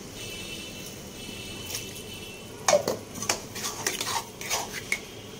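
Dhaba-style chicken is stirred and sautéed in a pan with a little water: near-silence at first, then a run of close metallic scrapes and clinks of a spoon against the pan.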